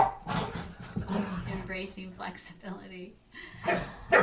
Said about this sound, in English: Excuse the older dog and the puppy playing right underneath me.